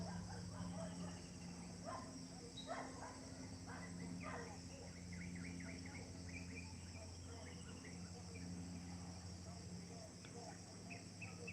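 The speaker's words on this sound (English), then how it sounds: "I hear the dogs from the next farm there" Dogs at a neighbouring farm bark repeatedly in the distance, faint clustered yaps over a steady bed of crickets and insects in the morning outdoors.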